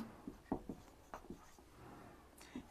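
Pen writing on paper, a few short scratchy strokes in an irregular rhythm, close and quiet against a faint room hiss, with no talking.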